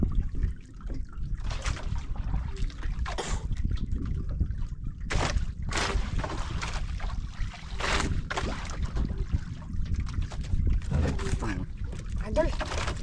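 River current flowing steadily, a broad rushing wash with trickling water throughout, near and continuous, with people talking intermittently over it.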